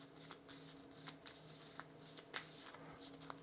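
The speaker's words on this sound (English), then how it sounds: "Give that a shuffle." A deck of Ashes Reborn game cards being shuffled by hand, a fast run of soft riffling flicks and slaps, close and fairly quiet, over a faint steady background hum with no talking.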